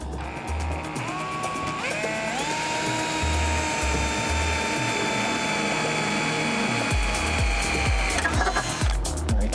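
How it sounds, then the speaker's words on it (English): A power drill with a 1/8 inch bit bores through plastic and then sheet metal while fitting an RV cellular booster, the motor whining steadily up close with pitch shifts and a rhythmic knocking beneath, loud throughout. "And we're going to drill through the plastic and then the sheet metal."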